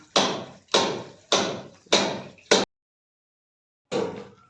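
A chisel is struck with a hammer in four evenly spaced loud, close blows, then a quick fifth, a pause of silence, and one more strike, each a sharp metallic knock with a short ring.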